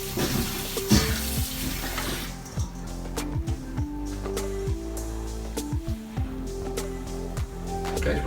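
Vine-ripe tomatoes being rinsed under a running kitchen tap, with a steady spray of water at the start, then softer splashing and handling, and musical tones sounding throughout.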